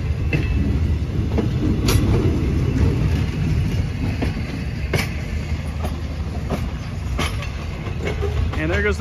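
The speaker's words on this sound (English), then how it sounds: "And there goes the train off to Nakhon Sawan." A train bound for Nakhon Sawan rumbles steadily along the tracks nearby at Hua Lamphong station, Bangkok, wheels clacking at intervals over a constant low roar.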